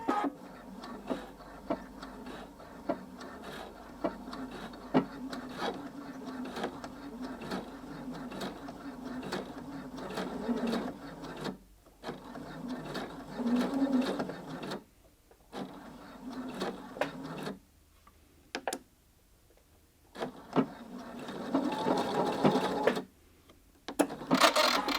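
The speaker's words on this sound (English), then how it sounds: "I'm just going to sew along that stitching line again now" A sewing machine stitches along a line on a bound buttonhole, running in rapid, rhythmic bursts of mechanical whirring and ticking, stopping briefly several times before starting again.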